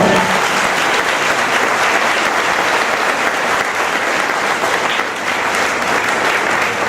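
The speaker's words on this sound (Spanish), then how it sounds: "Nos le den un aplauso al Señor" A church congregation applauds the Lord during a Spanish-language service, a loud, steady wash of many hands clapping that carries on without pause for the whole stretch.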